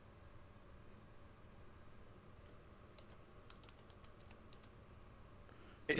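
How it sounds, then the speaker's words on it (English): Soft, faint typing on a computer keyboard in a quiet room, a few scattered light key taps in the second half with a brief louder knock at the very end. "I was not looking at what I was typing."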